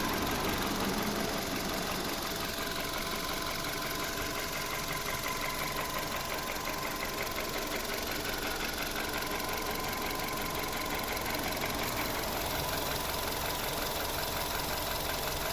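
A 2007 Volkswagen Polo Cross 1.6 MPI petrol engine with twin camshafts and 16 valves idles steadily and evenly for the whole stretch, with a constant mechanical hum and fine ticking, heard up close with no talking.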